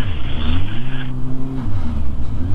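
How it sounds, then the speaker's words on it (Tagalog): An underpowered motorcycle engine drones loudly and steadily on a ride along roads in Japan, its pitch sagging and shifting, with rushing wind noise close at hand. "Napakahina nitong motor na ito"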